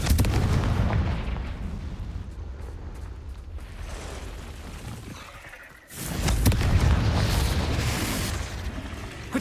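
Loud, rumbling Confringo blasting-spell explosions from Hogwarts Legacy, one sustained burst and then a second heavy blast after a brief lull, dense and booming throughout.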